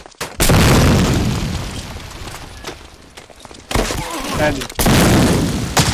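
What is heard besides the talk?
grenade explosion in a video game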